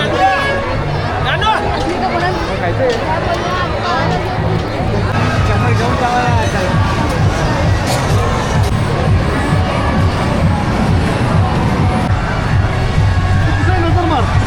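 Crowd noise fills the Mahad Chabina temple fair with steady, loud hubbub, overlapping chatter, children's shouts and scattered cheers, all close and continuous.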